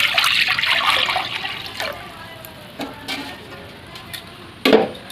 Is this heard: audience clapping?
no